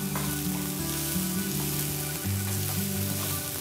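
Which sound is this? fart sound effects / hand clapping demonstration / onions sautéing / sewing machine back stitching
onions sautéing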